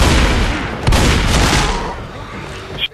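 Shotgun blasts in the zombie shooter Left 4 Dead 2, set in the sewer section of the No Mercy campaign, a dense barrage of booming gunfire with a sharp burst near the end, loud and continuous with a little voice underneath.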